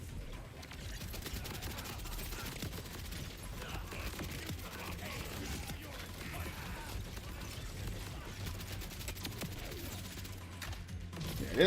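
Weapon fire in the video game Borderlands 4: a fast, continuous rattle of gunshots plays steadily at moderate level for the whole stretch, like sustained automatic fire against a shielded enemy.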